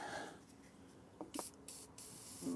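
Short bursts of penetrating fluid are sprayed onto rusty alternator bolts on an old Jeep TJ, several quick hissing puffs in a row after a quiet start, close and fairly faint.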